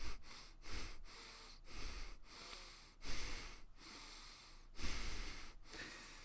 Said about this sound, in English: I'll try breathing through my nose real quick.